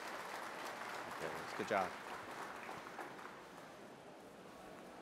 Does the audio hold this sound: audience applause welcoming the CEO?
yes